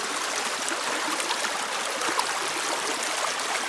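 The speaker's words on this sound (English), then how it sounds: "It's pretty rough water here." Rough creek water rushes steadily past a sluice box, a dense continuous broadband wash of flowing and splashing stream water at close range, with no talk over it.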